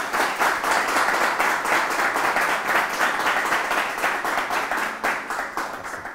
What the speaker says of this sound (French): Merci de vous applaudir très très fort.